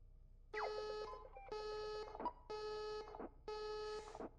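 In the Graveyard Shift at Freddy's game, an electronic alarm sounds four times in even, repeating tonal bursts, each about half a second long with short gaps between them, moderately loud, with no talking.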